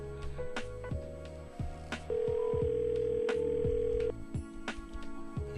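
Telephone call placed live on a radio broadcast, a long steady ringback tone held for about two seconds over a rhythmic musical backing bed, with no talking.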